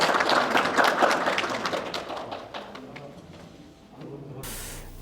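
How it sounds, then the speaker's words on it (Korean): An audience at a volunteer center leadership training session claps to welcome a speaker, a brisk burst of applause that thins out and fades over a few seconds, followed by faint room noise. "큰 박수로 맞이해 주시기 바랍니다."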